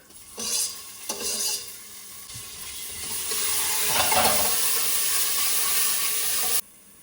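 Cumin, ginger, chili and garlic hit hot oil in a pressure cooker, crackling and popping with stirring clatter, then settling into a steady close sizzle before cutting off abruptly.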